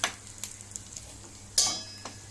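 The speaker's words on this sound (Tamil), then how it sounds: "இதெல்லாம் நல்லா பொரியட்டும்" Soft sizzling and crackling of spices and dried red chili frying in hot oil, with a few sharper pops and a brief louder spatter midway.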